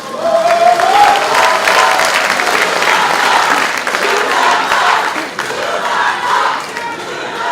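A large crowd at a Korean party rally for local-election candidates claps loudly with cheering and shouting mixed in, a dense sustained roar that dips slightly then continues.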